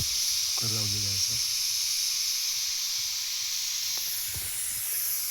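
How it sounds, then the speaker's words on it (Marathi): A pressure cooker cooking khichdi at a campsite releases a steady, loud hiss of steam that runs through the whole stretch, while someone speaks briefly over it. "कुकर लावलेला आहे."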